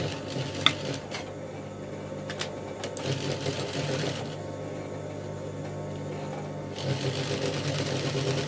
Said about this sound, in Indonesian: Lalu kita akan mulai jahit